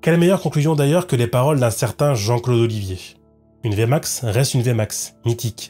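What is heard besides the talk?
No everyday noises stand out.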